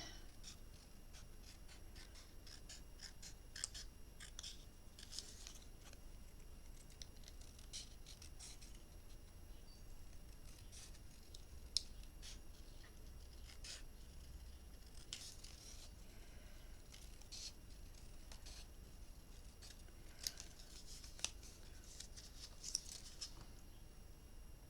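Scissors snipping and trimming paper for a handmade mini album, soft irregular cuts and light paper rustling close by at low volume, with no voices.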